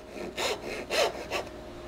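A handsaw cuts into wood with about four short rasping strokes in quick rhythm, close and moderately loud.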